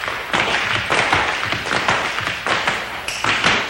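Rapid tap dancing feet clatter in dense, rhythmic bursts of sharp taps, loud and close, with brief pauses between flurries.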